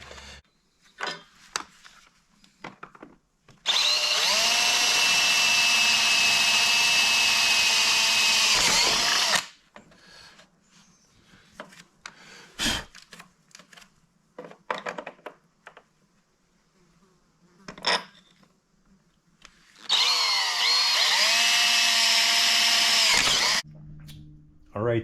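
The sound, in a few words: power drill bolting axle down with U-bolts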